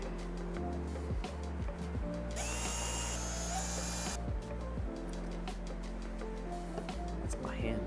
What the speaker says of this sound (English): let's put some screws in it